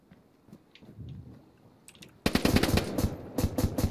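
Rapid bursts of automatic gunfire from a player in the DayZ video game, loud and close, erupting suddenly after a quiet stretch and rattling on in dense volleys.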